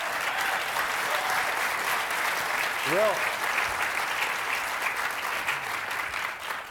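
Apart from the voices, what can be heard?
audience applause at green jobs conference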